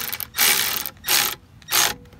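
A ratchet tool loosens a nut while a Nortech 43V Teague Custom Marine aerator kit is fitted, giving three close, loud bursts of rapid ratcheting clicks separated by short pauses, with no talk.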